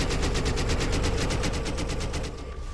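Gunfire from a gun in a Star Wars Battlefront 2 mod: a steady, rapid automatic stream of evenly spaced shots, close and continuous, tapering off at the end.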